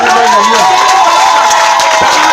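A church congregation cheers and acclaims loudly and steadily, a sustained crowd roar with voices blending throughout.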